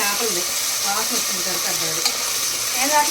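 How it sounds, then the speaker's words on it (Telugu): Ginger garlic paste frying with onions in a pan for prawn biryani gives a loud, continuous sizzle that holds steady throughout, with faint tonal traces that may be a voice in the background. "ఈ అల్లం వెల్లుల్లిపాయ పేస్ట్ కూడా పచ్చి వాసన పోయే వరకు ఫ్రై చేసుకోవాలి"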